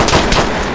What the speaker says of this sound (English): Yo, who's shooting, bro?